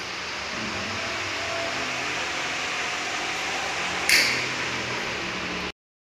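A small electric fan in a living room runs at high speed, a steady, even whooshing hum heard close up, with a brief bright ping near the end before it cuts off.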